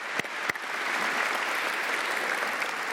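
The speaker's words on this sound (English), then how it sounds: "How about another round of applause for our 2018 inductees?" Sustained applause from the audience at the 2018 San Antonio Aviation Hall of Fame awards dinner and induction, honoring the inductees; steady clapping that holds for three seconds, with a couple of sharp claps near the start.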